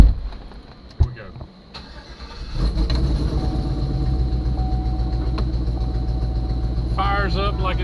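LS-swapped 2006 GMC Envoy engine cranking and catching, a sharp starter clunk followed by the engine firing into a loud, steady idle with a slight misfire, and a voice speaking briefly near the end.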